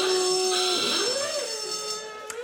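A blaring klaxon alarm sounds on a TV quiz show after a wrong answer. It is a loud, sustained electronic honk that wavers and bends in pitch, heard alone for about two seconds.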